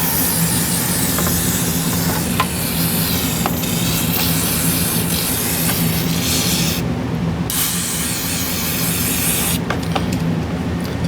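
Compressed aerosol spray hisses loudly over a graphics card being cleaned, in long continuous bursts with a brief pause near the end.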